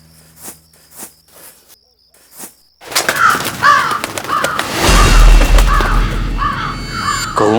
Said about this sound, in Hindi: कौओं की आवाज